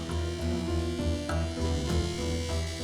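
A noisy air conditioner in a bank office gives off a steady electric buzz with a strong low hum, constant and loud without a break.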